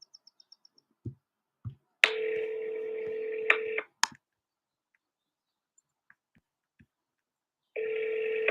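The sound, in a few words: telephone call ringing, calling again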